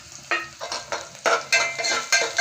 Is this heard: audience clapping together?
no